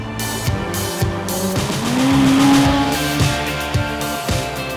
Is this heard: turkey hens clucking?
no